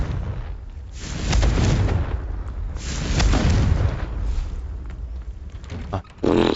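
A Confringo fire spell blasts in the Hogwarts Legacy video game, with loud booming bursts near 1 and 3 seconds over sustained rumbling and game sound, then a sharp hit at the end.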